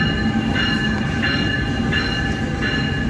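An ALP-46A electric locomotive at Trenton Transit Center hums and rumbles steadily up close, with a faint rhythmic rail clatter repeating about every half second and no voices.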